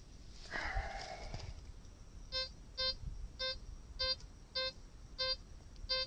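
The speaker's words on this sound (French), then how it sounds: "Là vous entendez, le détecteur prend parfaitement la monnaie." Gold Max Power metal detector sounding over a coin: after a brief rustle, a run of about nine short, evenly spaced electronic beeps, clear and fairly close.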